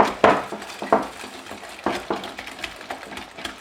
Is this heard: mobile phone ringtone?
no